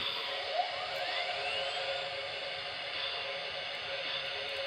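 An MTH Proto-Sound 3.0 O scale N&W J Class model locomotive hums and whines steadily at a faint level as it starts up, with a rising tone early on and no talk.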